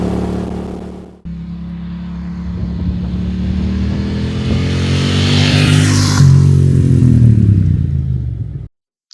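Ducati Monster 800ie motorcycle on a ride, its engine loud and close, revving up through a rising note with a gear change partway, then cutting out near the end.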